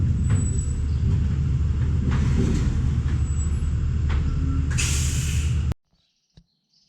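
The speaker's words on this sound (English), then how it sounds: "I'm going to put air to the trailer so we can release it" A step deck trailer's air system runs as a steady, heavy truck rumble, then a sharp burst of released air hisses loudly near the end before everything cuts off abruptly.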